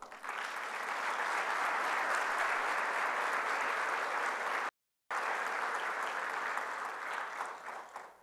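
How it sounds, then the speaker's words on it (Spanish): Sustained applause from an audience honoring a deceased colleague at a volunteer induction ceremony, steady and dense for several seconds, cut by a brief silent gap, then resuming before tapering slightly. "para quien pido un aplauso."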